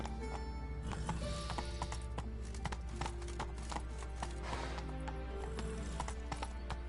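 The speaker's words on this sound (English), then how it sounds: "Horse on stairs, cause you know," Rapid, hollow hoof clops patter in an uneven rhythm as a horse clatters up stairs in The Witcher 3 video game, over a steady low rumble.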